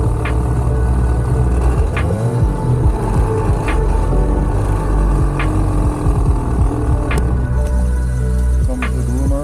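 A snow groomer rumbles with a steady low throbbing engine drone, continuous and moderately loud as it approaches, with faint periodic clicks over the hum.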